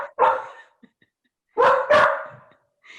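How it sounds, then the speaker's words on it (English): A dog named Maisie barks three times, loud and close: one bark, then two in quick succession after a pause, with silence between. "I unmute the dog again."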